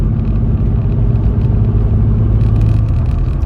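A VW Up! GTI on KW V1 coilovers rounding a corner at about 40 mph, heard from inside as a loud, steady engine and road rumble with a low drone and no talk.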